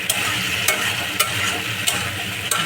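Tomato sauce frying in a pan for pasta, a continuous close sizzle with a spoon scraping the pan about every half second in a regular rhythm, with no talk.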